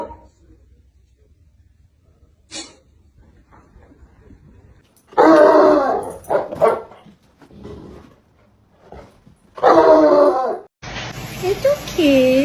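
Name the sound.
dog barking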